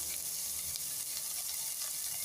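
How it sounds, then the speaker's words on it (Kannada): Chopped onions roast in a hot pan for bitter gourd sabzi, giving a steady, close, continuous sizzle and crackle with faint stirring, no voices. "ಈಗ ಅದು ರೋಸ್ಟ್ ಆಗ್ತಾ ಇದೆ ಅದು."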